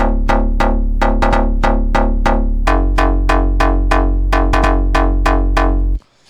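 A Bass de Rave synth bass pumps with sidechain compression in a rave-style beat, repeating loud rhythmic stabs over a deep sustained low end for about six seconds before cutting off abruptly.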